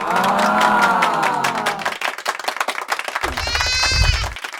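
Saanen and Toggenburg dairy goats on a farm bleat, first one long wavering cry, then a brief gap of rustling and another higher, drawn-out bleat close by, loud with no talking.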